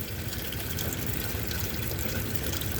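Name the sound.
water draining from a hot water heater valve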